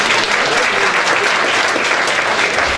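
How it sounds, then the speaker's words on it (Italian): An audience at an olive oil award ceremony in Negrar claps loudly and continuously, a close and dense burst of applause that cuts off abruptly. "Un bel applauso, grazie"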